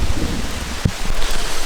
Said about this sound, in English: Oh no, now it's raining really bad.